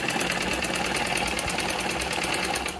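A sewing machine stitching the shoulder seams of a lined blouse, running steadily at speed with a fast, even mechanical chatter of the needle throughout, close and loud, no talking.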